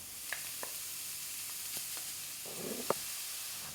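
Pork dry-frying in a pan without oil gives a faint, steady sizzle with scattered small pops and crackles.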